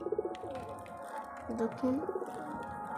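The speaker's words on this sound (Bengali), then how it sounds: "এই যে সব পায়রা এখানে ঘরের ভিতরে এসে ডাকাডাকি করছে।" Several domestic flying pigeons coo repeatedly inside a loft where they nest, their rolling calls close and overlapping, with someone speaking briefly.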